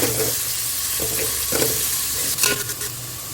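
Long, thinly sliced onions fry in hot oil for chicken biryani, with a constant loud sizzle close by and repeated scraping clinks as the pan is stirred.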